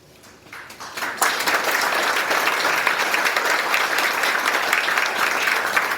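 An audience at a local historical society candidates' forum breaks into applause that starts quietly, swells within about a second, and then holds as loud, dense, steady clapping.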